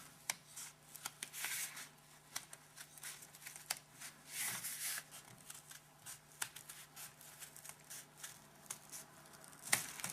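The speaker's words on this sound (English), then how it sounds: "Let's see if these scissors will go through all 8 layers of this." Dull scissors chop through eight stacked layers of material for a pumpkin centerpiece, giving faint, scattered crisp snips and rustles at irregular intervals against a quiet room.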